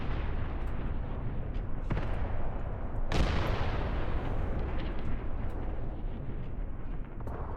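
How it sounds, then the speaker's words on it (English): Heavy 15-centimeter howitzer shells exploding in the Graviteam Tactics war game, a dense continuous rumble of battle with one sharp, louder blast standing out partway through, no voices. "These bigger explosions are from 15-centimeter howitzers."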